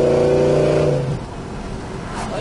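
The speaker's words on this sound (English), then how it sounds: "this car just got a great, great sound to it." A 1970 Chevrolet Chevelle engine revs up loud and close while driving, its steady droning tone climbing before it cuts off abruptly, leaving a rougher, quieter rumble.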